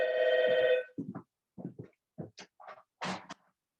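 A telephone rings loudly nearby in one long, steady trill, then stops, followed by a series of short, scattered clicks and knocks in an otherwise quiet room.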